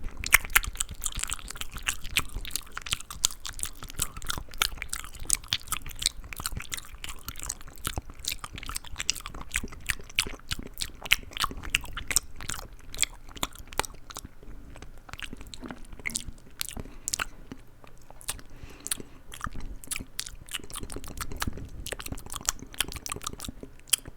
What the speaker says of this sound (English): And making mouth sounds.